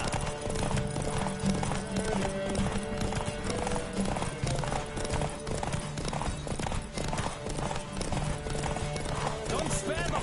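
Horse galloping in The Witcher 3 video game, a steady, dense clip-clop of hooves running continuously at close range under game music and character voices.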